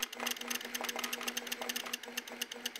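A homemade dot matrix printer sets black dots on its first pass, giving a fast, steady run of small mechanical clicks and ticks with a faint whine underneath, close and continuous.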